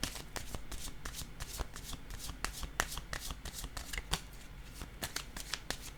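Tarot cards shuffled and riffled by hand, a fast, steady run of crisp papery flicks and slaps, close and quiet, continuing throughout without talk.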